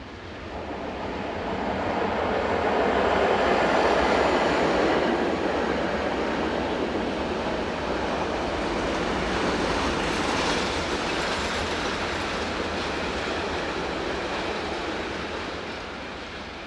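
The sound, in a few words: train headed by locomotive 11237 passing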